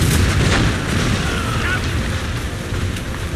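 Ship cannons firing during a naval battle in Assassin's Creed Rogue, a heavy continuous rumble of booming blasts and roiling low-end noise, loud and close, with voices shouting over the battle.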